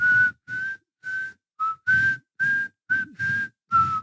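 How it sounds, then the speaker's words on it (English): A person whistles a tune in nine short, clear phrases separated by brief pauses, with soft rustly background noise beneath each note. "The song is making me whistle a song"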